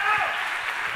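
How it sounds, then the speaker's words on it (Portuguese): A church congregation applauds briefly, a soft spread of clapping at moderate distance with voices mixed in. "dá um aplauso a Jesus aí"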